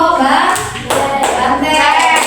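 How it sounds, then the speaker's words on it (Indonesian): A burst of enthusiastic group applause, dense clapping filling the room and continuing steadily throughout. "tepuk tangan dulu untuk kelompok"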